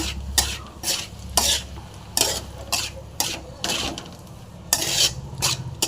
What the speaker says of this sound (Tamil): நல்லா கலக்கிங்க